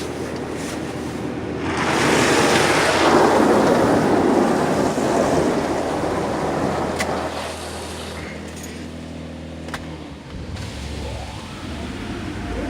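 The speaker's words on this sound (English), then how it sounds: "Spot free rinse again" Spot-free rinse spraying inside a PDQ LaserWash 360 touchless car wash, a loud rushing hiss of water that swells, holds, then fades, followed by quieter mechanical hum.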